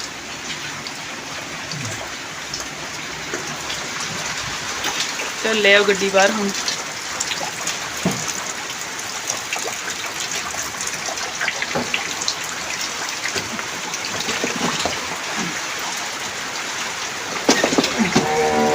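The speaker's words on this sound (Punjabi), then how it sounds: "ਸਾਡੇ ਇੰਨਾ ਮੀਂਹ ਹੈ ਨਾ ਕੱਲ ਤੋਂ ਸਿਰ ਸ਼ੁਰੂ ਹੋਇਆ ਬਸ ਕੱਲ ਤੋਂ ਲਗਾਤਾਰ ਚੱਲਣ ਡਿਆ" Heavy continuous rain falls in Punjab, a dense, steady hiss with scattered drips and patters lasting the whole stretch, while someone speaks briefly and a few dull knocks sound nearby.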